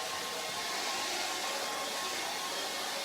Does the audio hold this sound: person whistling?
no